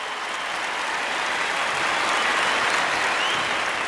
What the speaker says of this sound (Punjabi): ਅਸੀਂ ਇੱਕ ਵਾਰ ਜ਼ੋਰਦਾਰ ਤਾਲੀਆਂ ਮਾਰਾਂਗੇ